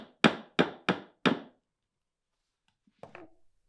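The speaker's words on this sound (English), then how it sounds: "I'm cinching this tight with the hammer" A hammer taps cable staples into a woven stool seat, four sharp, evenly spaced close knocks followed by silence and one fainter clatter.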